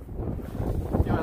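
Wind buffeting a microphone on the exposed summit of Pikes Peak at about 14,115 feet, a steady low rumble with gusty swells throughout.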